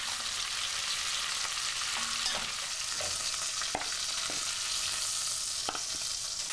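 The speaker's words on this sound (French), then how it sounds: "Je fais revenir la viande pour qu'elle soit bien dorée des 2 côtés." Mutton browns in a pot over a fire of dried turf and heather, giving a steady, even sizzle of hot fat with a few soft clinks and stirring taps scattered throughout and no voices.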